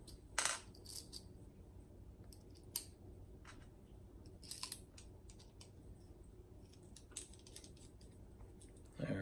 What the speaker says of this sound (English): Gonna need to use my little jeweler screwdriver here on this one.